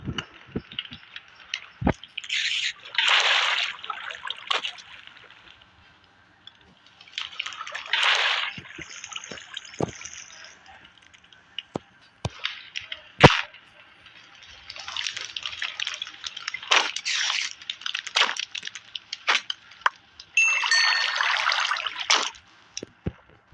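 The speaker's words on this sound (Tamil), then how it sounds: "காய்ஸ் இப்போ நாங்கள் கீழே தண்ணி ஊற்றிடலாம்." Water poured from a bucket in an outdoor work setting, arriving in several separate bursts of splashing and trickling, with quiet gaps and sharp knocks and clatters in between.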